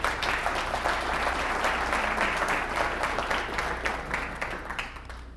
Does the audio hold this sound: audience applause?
yes